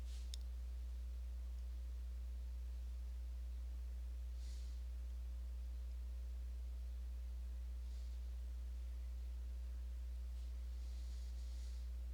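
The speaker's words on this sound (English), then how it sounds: "I can hear the hum in the next room right now" Low steady electrical hum droning continuously and faintly throughout, with a few soft clicks and light rustles scattered over it.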